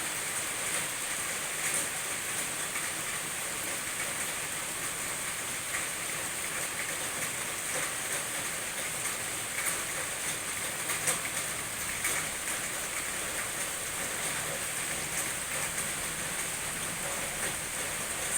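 Steady, dense hiss of heavy rain pouring down without a break, evenly loud throughout with no voices.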